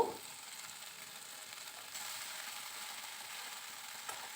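Okra (bhindi) stirred and frying in a pan for a sesame okra dish, giving a faint, steady sizzle with soft scraping, no voices.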